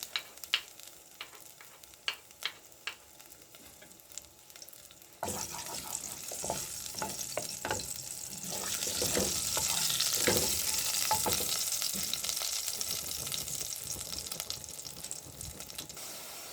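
Sparse clicks and taps give way to oil suddenly sizzling in a pan for chow mein, a loud frying hiss that swells and holds, with scattered stirring noises.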